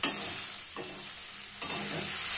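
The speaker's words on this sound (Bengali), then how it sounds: "শিম এবং বেগুনের সাথে বাঁধাকপিটা খুব ভালোভাবে মিলিয়ে মিশিয়ে নেব।" Flat beans, eggplant and cabbage are stir-fried in a pan. A steady close sizzle runs throughout, with a few scraping stirring strokes.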